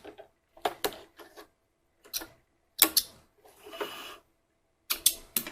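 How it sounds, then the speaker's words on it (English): Sewing machine locking stitches on fabric: short bursts of quick mechanical ticking and clattering separated by silent pauses, quiet and close. "I'm just going to lock my stitches here."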